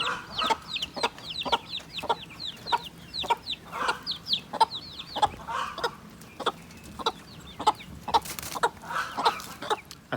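Chickens cluck steadily inside a brooder, with repeated short calls and a rhythmic series of sharp clucks and chirps through a light background hum, close and moderately loud, with no voices.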